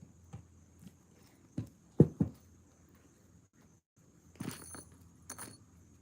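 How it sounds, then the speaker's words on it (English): Metal chainmail rings jangle in short, scattered bursts as a shirt side panel is worked on by hand, with a few sharper clinks near the middle and a busier cluster of jingling near the end, all quiet and close. "I'm making chainmail"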